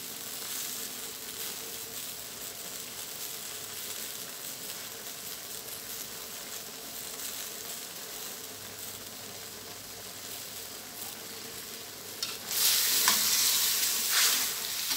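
Onion flower and pork belly stir-fried in a hot pan, a continuous loud sizzle with stirring scrapes, swelling into a bright burst of crackling spatter near the end.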